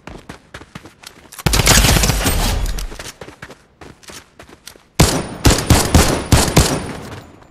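Gunfire in the game Fortnite from a sniper rifle: two loud, close bursts of shots, each fading with a rattling echo, separated by a quieter stretch.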